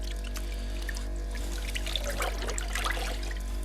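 Running tap water pours steadily over a slimy fish being rinsed before salting, a continuous close splashing trickle with a low hum beneath it.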